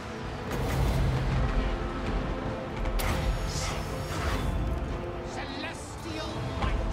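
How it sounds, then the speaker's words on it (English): Empire cannons firing in the Total War Warhammer game, deep booms and rumbling blasts rolling under shouted unit voice lines, with a loud thump near the middle and a whooshing battle ambience around them. "Cannons! Fire!"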